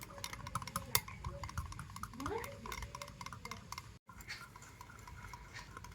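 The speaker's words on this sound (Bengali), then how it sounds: "তো হলুদ গুঁড়ো দিয়ে আবার একটু ভালো করে মিশিয়ে নেব" Turmeric powder being stirred into a batter of sour yogurt and gram flour, with steady scraping and clinking of a utensil against the bowl, fairly close, and a brief gap near the end.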